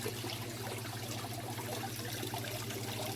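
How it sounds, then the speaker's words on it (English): Water splashes off a mossy rock-and-wood aquarium waterfall in a continuous close trickle and patter over a steady low pump hum. "That's how much water we're getting splashing off of that."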